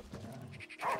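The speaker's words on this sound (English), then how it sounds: "Scared by dog." A dog barks in the video game Last Day of June, a short close burst near the end of a brief moment that otherwise holds only faint game ambience.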